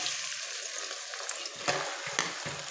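Close, steady sizzling of chopped onions frying in hot oil in a kadai, with a few soft stirring scrapes near the end.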